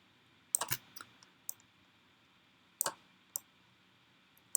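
Sharp computer mouse clicks sound in graphics software: a quick double click, a few light single clicks, then two more crisp clicks and a final pair, all close and isolated against a faint background hum.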